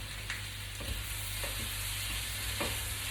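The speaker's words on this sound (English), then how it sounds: "So again, stir around, let them do the thing." Potatoes for a Spanish omelette being stirred as they fry in a pan, a steady close sizzle broken by a few soft scrapes of the utensil, with a low hum running underneath.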